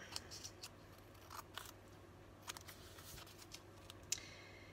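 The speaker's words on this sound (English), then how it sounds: "So I'm just going to trim up the edges here a little bit." Scissors trimming the edges of tea-stained paper while making craft tags, giving quiet, sparse snips and small rustles close up against a low hum, with no talking.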